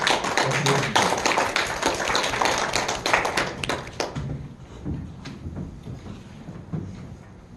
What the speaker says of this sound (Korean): 큰 박수로 강사님을 모시겠습니다